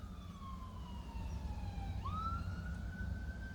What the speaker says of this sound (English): What's with the Sirens?